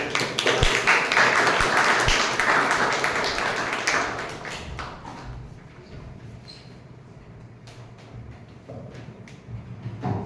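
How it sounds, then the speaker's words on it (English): An audience at a Toastmasters club meeting claps loudly for about four seconds. The applause then thins to scattered faint taps and a quiet room. "please give a huge round of applause and welcome"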